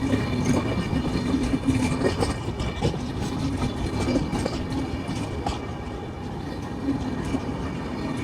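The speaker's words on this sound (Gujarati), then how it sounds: "ફટાફટ ટ્રેન નીકળે એટલે આપણે રવાના થાય ગાંડલા" A train runs past on the rails, giving a steady loud rumble with a rhythmic clatter of wagons over the track. The sound holds without pause for several seconds and no voices are heard.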